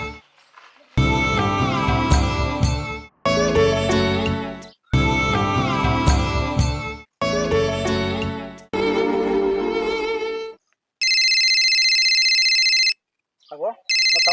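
A telephone rings in repeated loud musical ringtone bursts separated by short gaps, followed by a steady electronic tone and a brief voice at the end.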